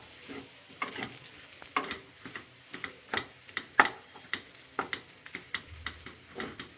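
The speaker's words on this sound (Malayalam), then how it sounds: "രണ്ടും കൂടി നന്നായിട്ട് മിക്സ് ചെയ്ത് കൊടുക്കുക" Mashed potato and chicken mixture for Kerala-style chicken cheese balls is stirred steadily in a pan, a close, regular series of soft scrapes and taps on the pan with no talking.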